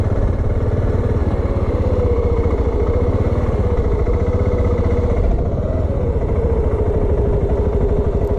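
A Voge 650 DSX motorcycle runs continuously off-road, its engine a steady, close, throbbing drone with a slight change in pitch partway through.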